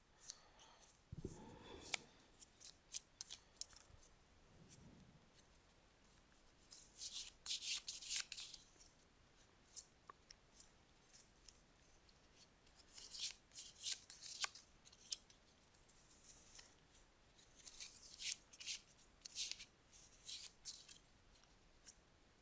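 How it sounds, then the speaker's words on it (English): Playing cards are shuffled by hand during a card-game match, soft riffling and sliding bursts coming in irregular clusters, quiet and close with brief gaps between handfuls. "it just makes me shuffle a bunch of cards around like an idiot"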